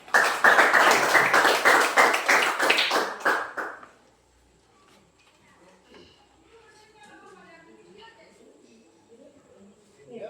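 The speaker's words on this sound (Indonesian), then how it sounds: "Kita beri aplaus untuk teman kelompok 1." Applause from a classroom of students cheering group 1, a dense burst of many hands clapping for about four seconds, then stopping abruptly into quiet room murmur.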